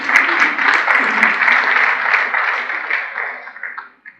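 An audience at a district governor's installation ceremony breaks into sustained applause, a broad, even wash of clapping that fades slightly toward the end, with voices mixed in.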